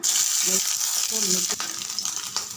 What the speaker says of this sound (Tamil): 4 டீஸ்பூன் எண்ணெய் விட்டுருக்கேன். 3 வரமிளகாய். இது நல்லா செவக்க வதக்கி எடுத்துடலாம்.